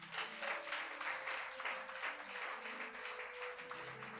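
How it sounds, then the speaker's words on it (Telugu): A church congregation at an all-night prayer meeting claps together in a steady, continuous patter of many hands. The sound is faint and distant, with a low tone humming underneath. "ఇచ్చేటోళ్ళు చప్పట్లు కొట్టండి"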